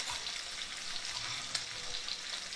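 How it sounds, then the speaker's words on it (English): Pork chops fry in a pan with a dense, steady sizzle that holds at an even level throughout, close and continuous with no talking. "And they'll fry up good."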